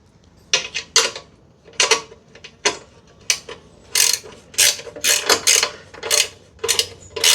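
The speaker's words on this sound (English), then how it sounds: "I like to use a ratchet wrench." Ratchet wrench tightening a bracket bolt for vehicle lights, heard as short bursts of sharp metallic clicking, close and distinct, coming in irregular groups with brief pauses between strokes.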